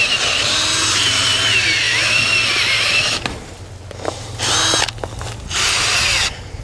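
A half-inch drill bores a hole in the ground for a fence post, a loud close motor whine that runs steadily for about three seconds, then stops and restarts in short bursts.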